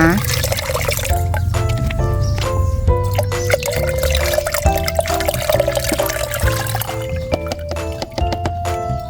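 Fermented garlic liquid is strained and poured into a container, making a steady close trickle whose pitch slowly rises as the vessel fills, with small drips and splashes.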